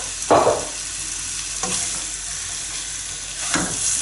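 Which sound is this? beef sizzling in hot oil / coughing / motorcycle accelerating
beef sizzling in hot oil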